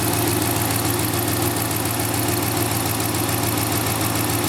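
A Dodge Ram 5.7L V8 idles steadily just after its first start, a loud, constant close-up engine drone with no talk over it.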